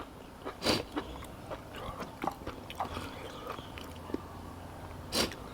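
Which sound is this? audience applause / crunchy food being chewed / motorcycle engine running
crunchy food being chewed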